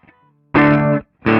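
Electric guitar runs through a booster pedal into a cranked amplifier, giving two loud, saturated chord bursts with a short gap between them after a faint quiet opening.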